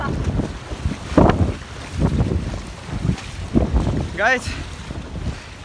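A strong windstorm sweeps through a river valley ahead of heavy rain, gusts buffeting loudly and unevenly while a voice talks over the roaring wind.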